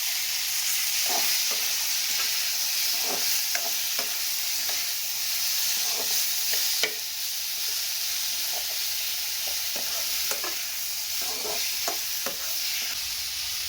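Chopped onion and a large tomato sizzle in a frying pan for an aubergine curry, a steady bright hiss with regular stirring scrapes close by, no talking.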